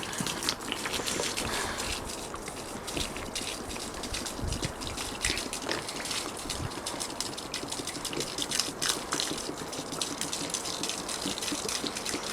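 Water poured out of a container after soaking a car's diesel particulate filter, a continuous splashing gush that runs steadily and fairly close, with no talking over it.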